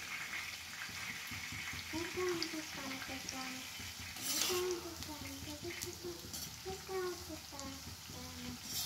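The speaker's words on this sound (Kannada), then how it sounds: "ಇವಾಗ ಎಣ್ಣೆನ ಫುಲ್ ಚೆನ್ನಾಗಿ ಕಾಯಿಸಿ ಅದನ್ನು ಕರಿತಾ ಇದ್ದೀನಿ" Kebab pieces frying in well-heated oil give a continuous sizzle with bubbling, watery crackle, and faint voices and clatter sit low beneath it, plus a brief sharp hiss burst midway.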